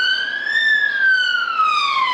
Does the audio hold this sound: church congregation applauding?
no